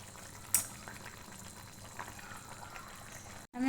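Chhanar dalna gravy, a Bengali paneer curry, bubbles in a pan after reducing down, a steady soft simmering hiss with faint popping and one brief clink near the start, no voices.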